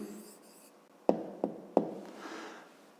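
A hand writing out an answer in a fifth-grade maths lesson: three sharp taps of pen on paper in quick succession, then a soft scratching stroke, close-up, quiet and without speech.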